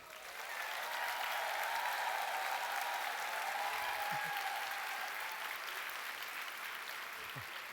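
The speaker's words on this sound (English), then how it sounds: "I think you got the loudest round of applause" A large audience at the International Council of Nurses Congress opening ceremony in Singapore applauds in a dense, steady roar of clapping that holds evenly for several seconds before easing slightly.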